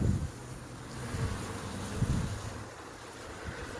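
A large honey bee swarm being captured, giving a dense, continuous buzzing hum close by with gusts of wind noise and faint bumps, no talking.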